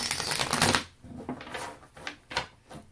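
Tarot cards are shuffled up close in a quick riffling burst, followed by a few softer shuffling sounds.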